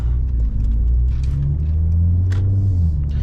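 Low, steady engine rumble of a 2017 Mercedes-Benz C43 AMG with Stage 1 tune cruising in eco mode, heard from inside the cabin, with a smooth droning hum and slight shifts in pitch.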